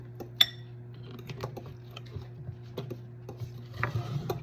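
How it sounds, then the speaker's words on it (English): Raspberry banana bread batter is stirred in a bowl with light, irregular scraping and tapping clicks over a steady low hum, quiet and close. "Okay, stir that around."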